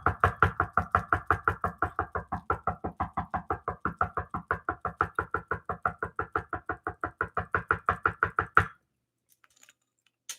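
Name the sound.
knocking on a door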